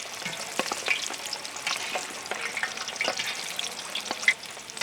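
Chicken samosas deep-fry in hot oil over a high flame, Indian village street-food style, with a steady, close crackling sizzle dotted with sharp pops and spits throughout.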